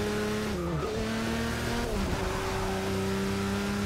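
A Corvette race car in Forza Motorsport 6 revs hard as its rear wheels spin, the engine pitch dropping and rising over tire squeal and skidding, loud and continuous.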